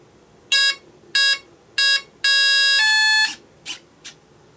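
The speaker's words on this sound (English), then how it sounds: "It made 3 beeps, which indicates how many cells the battery is." Electronic speed controller of an FMS Ranger 1220mm RC plane beeping on battery connect: a series of loud, clear tonal beeps, three short ones then a longer tone, followed by fainter chirps.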